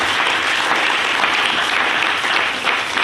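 A church congregation applauds steadily during a French-language prayer service, a dense, even wash of many hands clapping at close range with no talking over it.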